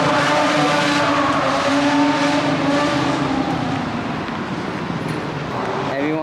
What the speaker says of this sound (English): someone started doing street drift